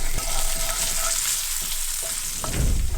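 Guanciale fries in a little olive oil in a skillet over medium-low heat, giving a dense, steady sizzle with a few brief clicks and a louder crackle near the end.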